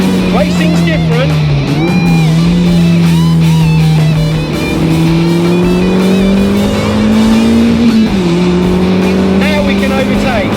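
A car drives fast around the Castle Combe race track, its engine droning loudly and steadily with small pitch dips at gear changes, while someone talks over it.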